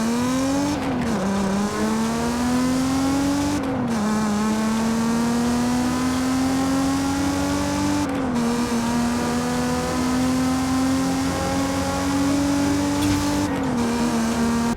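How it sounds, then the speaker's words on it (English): A Nissan 350Z with its VQ engine revs in Forza Horizon 5, a loud, steady drone that climbs through the gears with brief dips at three or four shifts, alone with no talking. "Nissan 350Z. The VQ is an awful sounding engine."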